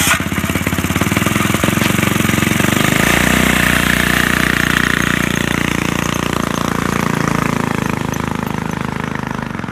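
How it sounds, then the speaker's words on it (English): A 1949 Whizzer Sportsman motorbike engine cranks and catches, then runs loud and close with a rapid, rattling single-cylinder beat that stays steady throughout. "I'm gonna crank her up and we're going for a ride"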